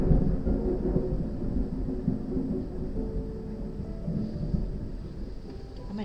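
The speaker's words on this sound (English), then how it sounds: "Can y'all hear the thunder?" Low rolling thunder from a storm rumbles steadily for several seconds, a broad distant roar with faint hiss on top and no clear voices.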